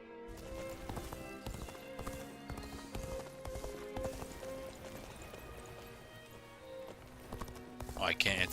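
A horse ridden in Dynasty Warriors: Origins clip-clops with rhythmic hoofbeats under game music, a whinny rising near the end, while someone talks over it.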